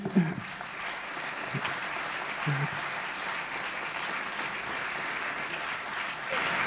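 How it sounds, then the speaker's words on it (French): An audience at an accessibility awards ceremony applauds steadily, a moderate, continuous patter of many hands. A few brief voices come through near the start. "On peut l'applaudir, merci."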